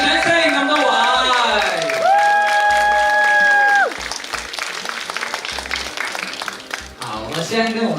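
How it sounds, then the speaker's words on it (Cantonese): An audience applauds the cast being welcomed on stage at the Hong Kong premiere of the film Kung Fu Soccer, steady clapping and crowd noise running under loud music with sustained tones. "好，來個熱掌聲咁多位"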